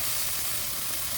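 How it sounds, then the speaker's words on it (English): Oil sizzling loudly and steadily as chopped garlic, red and green capsicum, mint and coriander fry in a pan, close and unbroken. "Then you have to take oil and fry chopped garlic in it, red and green capsicum,"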